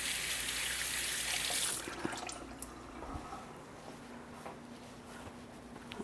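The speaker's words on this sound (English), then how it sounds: "Wash my hands again." A kitchen tap runs briefly as hands are washed, a close, hissing stream that cuts off after about two seconds, leaving soft drips and faint handling sounds in a quiet room.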